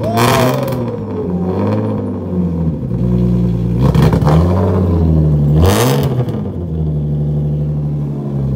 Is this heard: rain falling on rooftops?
no